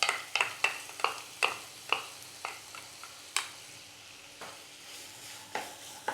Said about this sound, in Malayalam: അതിലേക്ക് മീഡിയം ഫ്ലെയിമിൽ വെച്ച് നമുക്ക് അതിനെ സോട്ട് ചെയ്തെടുക്കാം.